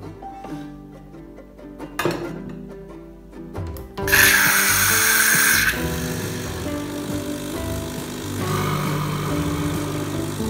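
Fully automated coffee machine running a rinse cycle: quiet mechanical whirring and clicks, then a sudden loud hissing water flush that lasts a couple of seconds before settling into a steady, softer pump hum.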